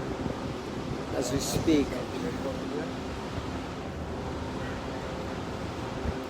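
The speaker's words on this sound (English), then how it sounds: "it's getting cooler out and a little bit windy" Steady outdoor wind on a cool, damp day after morning rain, with temperatures in the high 40s, blowing as a constant broadband rush under someone talking throughout.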